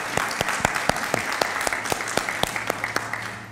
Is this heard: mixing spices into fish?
no